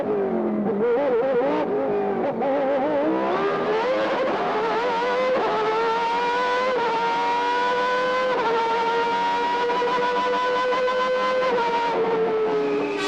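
Ayrton Senna's Formula 1 car screams through a qualifying lap at a Grand Prix, its engine holding a loud, sustained high-pitched wail that rises steadily through the gears, close and continuous with no talk.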